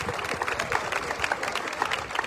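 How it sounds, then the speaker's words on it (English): Applause for Bill at the Jackson Apple Festival Red Coat Club presentation, a brief round of clapping from an outdoor crowd, steady and moderately loud without speech. "Give Bill a big round of applause."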